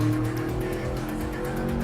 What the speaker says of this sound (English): It sounds nice, that engine, doesn't it?